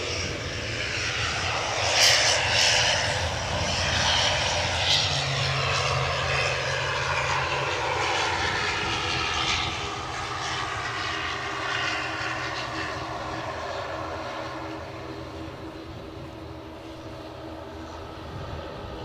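Aircraft engines roar steadily at Edinburgh Airport, a continuous loud rumble with a faint rising whine near the start, then a slow fade as the plane moves off. No voices are heard.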